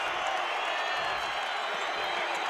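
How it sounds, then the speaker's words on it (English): A college basketball arena crowd at a UAB vs UTEP men's game rises in a steady, dense roar of cheering and applause, loud and continuous with no break. "and now the crowd gets to its feet"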